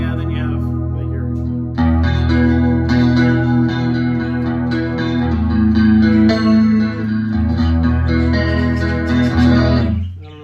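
A 2013 Fender Stratocaster American Standard electric guitar through a chorus effect plays sustained, shimmering chords, loud and continuous for about ten seconds, with a brief dip near the start and a fade at the end.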